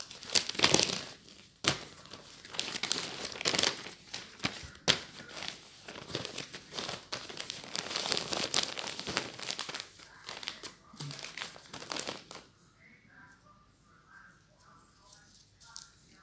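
Wrapping paper crinkles, rustles and tears loudly up close as a pair of black socks is wrapped as a birthday gift, in long busy bursts that stop suddenly near the end, leaving faint quiet sounds.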